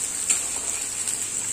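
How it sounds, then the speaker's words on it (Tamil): Steady hissing sizzle of onions frying in hot oil, with faint crackles and pops, no voices. "இப்போ வெங்காயம் நறுக்கி வச்சுருக்கேன், ஒரு பெரிய பல்லாரி, அதையும் போட்டுக்கலாம்."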